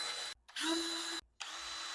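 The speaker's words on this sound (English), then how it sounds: "I like to screw one onto a piece of scrap wood so I can lean it up here and then just drill this hole" A power drill boring a hole through a metal bracket screwed onto a piece of scrap wood, running in two loud sustained bursts with a steady whine, broken by brief pauses.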